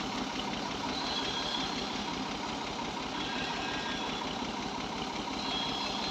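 A Pakistani tractor engine runs steadily for several seconds with a constant mid-range chugging drone and no breaks, heard close and fairly loud without any talking.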